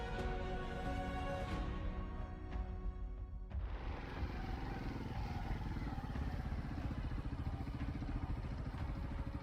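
A motorbike rides slowly over slippery red soil on a rough track at Shakardara, Kohat, its mid-pitched engine rumbling steadily and close by, with clattering from the bike over the uneven ground.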